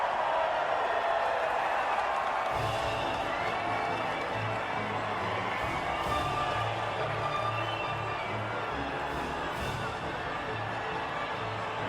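Virtual crowd in the F1 2019 racing game cheering and applauding as drivers head to the podium, a steady wash of distant clapping and shouting that carries on throughout at moderate volume.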